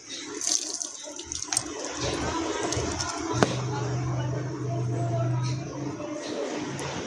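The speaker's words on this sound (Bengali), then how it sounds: "এটা জলটা ফেলে দিই।" Water is poured out from a container in a continuous splashing stream lasting several seconds, fairly close, with a soft thump partway through.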